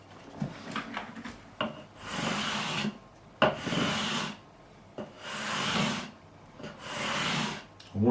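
Strokes of a 9.5-inch radius block faced with 400-grit sandpaper rasping along a guitar fretboard during a Fender Strat refret, several separate back-and-forth passes with short gaps between, close and fairly loud.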